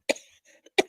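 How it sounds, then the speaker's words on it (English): Two sharp coughs about 0.7 seconds apart, close and fairly loud, with brief quiet between them. "I'm coughing."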